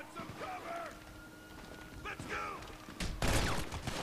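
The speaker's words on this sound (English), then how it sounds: "Shot me with a shotgun, I think." A shotgun fires in a video game: a short, loud burst near the end, following quieter game sounds and voices talking.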